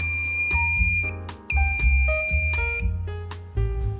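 A ZL66T melody IC module plays its buzzer sound as a continuous electronic tone pattern. High piercing pitches shift over a pulsing low backing, and the sound comes in loud segments about a second long, with no talking.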